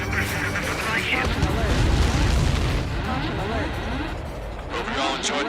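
A large explosion in the Ace Combat 7 flight game rumbles and crackles continuously with heavy, booming debris, loud and dense throughout, with voices mixed in.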